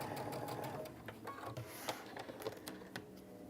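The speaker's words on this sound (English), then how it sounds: "And then I'm going to sew." Sewing machine stitching quilt rows together, a rapid mechanical chatter of the needle running continuously at close range, with a few louder knocks.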